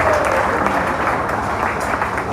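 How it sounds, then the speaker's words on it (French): A church congregation claps together during a Sunday worship service, a dense, continuous patter of many hands filling the room. "Alors nous pouvons acclamer le Seigneur de la gloire."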